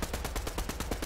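Rapid automatic gunfire in a video game, a quick rhythmic burst of about ten evenly spaced shots, fairly close and alone.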